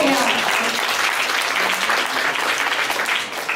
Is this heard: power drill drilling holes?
no